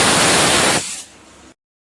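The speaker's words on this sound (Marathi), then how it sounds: "तोपर्यंत आपल्या कुकरच्या शिट्ट्या" A loud, sustained hiss of steam rushing out of a pressure cooker whistle while cooking mutton, cutting off abruptly into a quieter fading hiss before silence.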